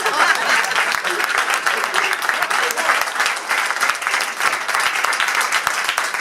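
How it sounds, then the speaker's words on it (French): Enthusiastic applause from an audience at an evening party, steady dense clapping throughout, with some voices mixed in underneath. "On peut l'applaudir bien fort parce que c'est encore grâce à lui qu'on en est tous arrivés là."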